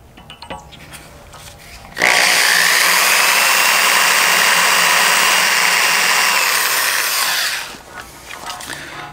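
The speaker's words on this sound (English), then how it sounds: "So I'm gonna do all that drilling." Power drill with a 1/8 inch bit working through thick metal plates on a mechanics workbench: a loud, harsh, steady grinding whine lasting about five and a half seconds, with quieter workshop noise before and after.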